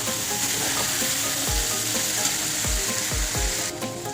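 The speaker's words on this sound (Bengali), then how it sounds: "এবার আমি বাঁধাকপিটা দিয়ে দেবো।" Purple cabbage goes into a pan of spice masala that has been fried until the oil separates, giving a loud, dense, continuous sizzle close by, with a few dull thumps from the spatula and no talking.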